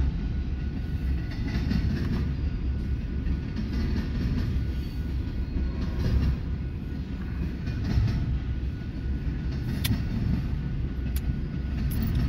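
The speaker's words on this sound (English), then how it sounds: "Looks like it will be a stack train" A double-stack freight train rumbles past steadily in Fremont, Nebraska, a continuous low roar with faint rail clatter and occasional high squeals, no voices.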